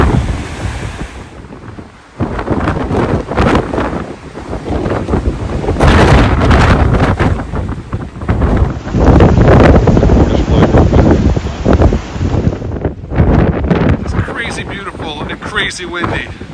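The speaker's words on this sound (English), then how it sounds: "Crazy windy." Strong gusting wind over a rough, angry sea on the Cornwall coast, heavy roaring surf and loud wind buffeting the microphone, surging and easing in waves, very close and dominant.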